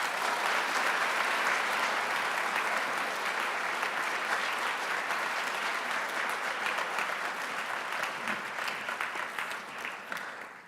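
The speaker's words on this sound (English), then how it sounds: "let's give the rabbi a big round of applause" Sustained applause from a large school assembly crowd, steady and dense clapping that holds for several seconds before gradually thinning out near the end.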